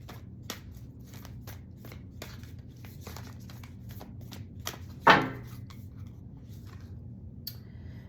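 A deck of tarot cards is shuffled in quick, soft riffling bursts, close and fairly quiet, with one sharper snap partway through and no speech.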